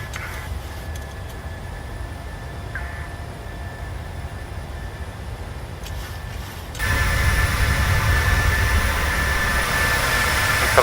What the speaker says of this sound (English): It's a beautiful little airplane.